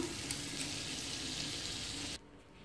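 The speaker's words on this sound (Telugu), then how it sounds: "వీటిని ఫ్రై చేసుకుందాం. బటర్ యాడ్ చేస్తున్నాను." Bread slices frying in butter in a pan give a steady, close sizzle that carries on evenly and then cuts off abruptly near the end.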